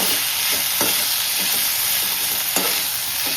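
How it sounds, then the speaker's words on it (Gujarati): Potato sambharo stirred in a frying pan with salt and turmeric, a steady loud sizzle broken by repeated scraping strokes of the spoon, close up with no talking. "આપણે આને મિક્સ કરી દઈશું"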